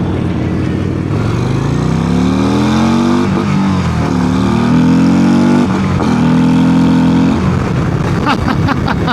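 A 2025 Harley-Davidson CVO Road Glide ST bagger, 127 HP, makes a full-throttle launch: a loud, close V-twin roar climbs steadily in pitch through the gears, with brief dips at each shift, then cuts off near the end.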